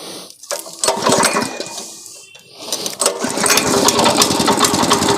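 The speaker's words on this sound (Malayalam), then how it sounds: "നമ്മൾ ഉപയോഗിക്കുന്ന മെഷീൻ കാംകോയുടെ 6 HP മെഷീനാണ്." A Kamco 6 HP power weeder engine runs in a tapioca field, a loud rough buzzing drone that dips briefly then surges back steady and close.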